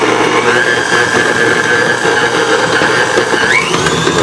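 A food processor or mixer whirls keto dark chocolate cookie dough, sugar-free and gluten-free, a loud, steady motor whine holding constant and then rising in pitch near the end, close up with no voices.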